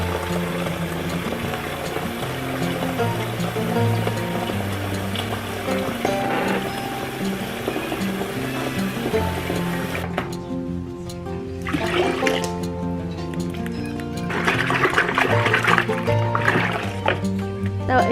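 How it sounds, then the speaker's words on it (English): Water running into a bucket from an outdoor source, filled to clean patio furniture: a steady, even rush of pouring liquid lasting throughout, shifting partway through to a splashier, brighter fill. "I'm just gonna fill up my bucket with water"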